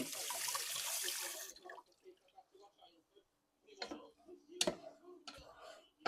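Water runs from a kitchen tap for a moment of rinsing while cooking a taco beef rice bowl, a steady splashing rush that stops after a second and a half, followed by faint clinks and handling noises.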